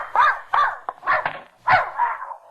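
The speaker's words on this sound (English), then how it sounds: "I came for Mrs. Pondecker's dog to take him for a walk" A dog gives a short run of barks and yips in an old-time radio murder drama, about five separate bursts over a couple of seconds, close and clear, with no talking over them.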